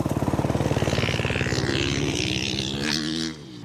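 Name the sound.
motorcycles riding on a dirt track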